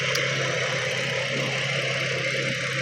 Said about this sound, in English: So, noisy injectors, can expect that.